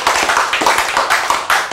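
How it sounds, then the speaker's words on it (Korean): Audience applause in a church sermon setting: a steady burst of hand clapping from many people, fairly close and dense, with rhythmic peaks running through the whole stretch and no speech over it. "이거 박수 쳐야 돼."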